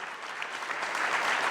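Short stretch of sustained clapping from a congress audience honoring three speakers on broadcasting law, a steady crackling wash that swells slightly toward the end.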